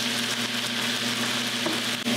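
Onions, fennel and garlic sizzle in a frying pan with thyme, a dense, even hiss that stays steady and close with no talking.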